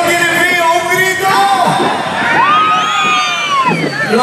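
A large crowd at a 2020 carnival in Barrio Huaynapucara yells and cheers together on a rainy afternoon, many voices, including children's, rising into loud, sustained whoops and shouts.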